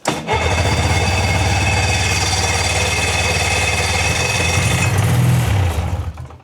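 Snowmobile engine cranking on a cold day after fuel is squirted in, a loud, steady rapid chugging of the starter that sputters briefly near the end and then dies away without catching.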